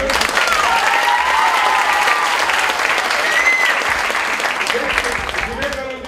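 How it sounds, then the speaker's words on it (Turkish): Loud, sustained applause from a school audience at a poetry festival in Sultanbeyli, with voices and cheers mixed in; it fades slightly toward the end. "Alkışlıyorum"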